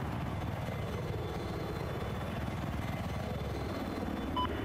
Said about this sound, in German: Ich habe einen feindlichen Heli gesichtet.